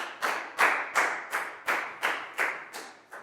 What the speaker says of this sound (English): a big round of applause for Pat